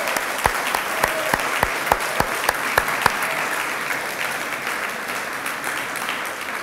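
An audience at a math and science initiative results event applauds students, a dense wash of clapping with a few sharp close claps standing out early, holding steady and easing slightly toward the end.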